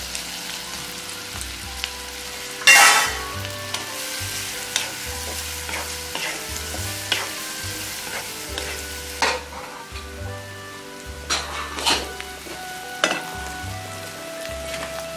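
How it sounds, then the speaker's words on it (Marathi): Finely chopped onion fries in a pan with turmeric and red chili powder, a continuous close sizzle with repeated scraping and stirring knocks of a spoon and one sharp clatter early on, no talking. "आपला कांदा इथे छान परतला गेलाय."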